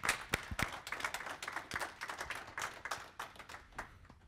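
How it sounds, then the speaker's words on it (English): Conference audience applauding at a Nagios World Conference, a dense wash of many hands clapping that swells and sustains with scattered sharper claps, fairly distant and steady throughout. "So how about a nice big round of applause one more time?"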